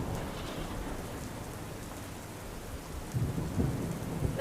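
Heavy rain with rumbling thunder during flooding from the swollen Kim River near Surat: a steady, dense roar of rainfall with low thunder underneath, growing slightly louder toward the end.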